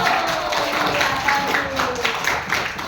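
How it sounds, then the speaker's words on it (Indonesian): A children's class claps together for a classmate, steady dense applause running throughout, close and moderately loud. "tepuk tangan buat Geo."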